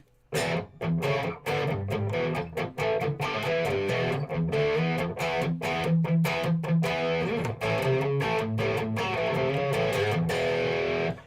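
Distorted electric guitar played through a high-gain amp with the reverb switched off, a continuous run of punchy chords and sharp rhythmic strums with brief gaps, loud and close, no voices.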